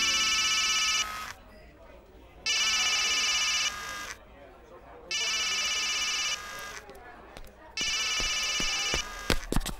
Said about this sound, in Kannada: ಫೋನ್ ರಿಂಗ್ ಆಗ್ತಾ ಇದೆ